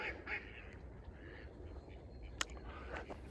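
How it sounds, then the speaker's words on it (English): Ducks quack faintly and intermittently in the distance outdoors, scattered short calls over a low background rumble, with one brief sharper sound near the end. "Now the ducks aren't feeding."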